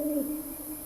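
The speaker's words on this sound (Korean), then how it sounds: "저 멀리서 부엉이가 우는 소리만이 전부였다" An owl hoots in a night forest, a single low, drawn-out call that sounds soft and distant.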